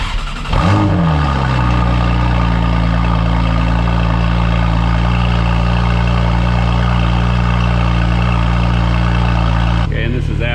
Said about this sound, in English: All right, I'm gonna do a cold start with the SOUL Performance exhaust.